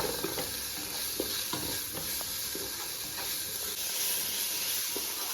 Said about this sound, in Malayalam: കറിവേപ്പില ഒന്നുകൂടി ഇളക്കി കൊടുക്കാം.